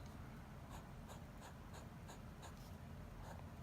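A Pelican fountain pen nib scratches swirls onto paper in a quiet, rhythmic series of soft strokes, faint and close with no talking.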